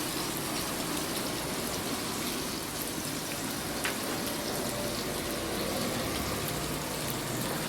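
Water pours steadily into a wide paella pan over an open fire, a constant broadband gushing and splashing that holds at an even level for several seconds, with no talk over it.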